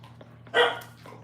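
At wiener dog races, a single sharp dog bark rings out briefly over a low, steady hum.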